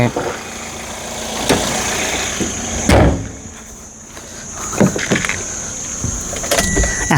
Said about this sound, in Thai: เครื่องแบบนิ่งๆแห้งๆ อย่างนี้เลยนะครับ